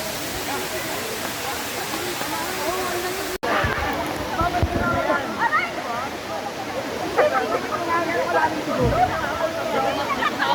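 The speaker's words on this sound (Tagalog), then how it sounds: "Yung Daranak Falls na ito." Rushing water at Daranak Falls, a bathing spot, roars steadily and close throughout, with a brief dropout near the start and voices audible over the constant torrent.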